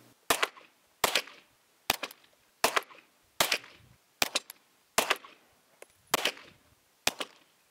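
Nine sharp gunshots from a micro pistol with a threaded barrel firing subsonic rounds, spaced evenly under a second apart, each a crisp crack with a short tail, no voices.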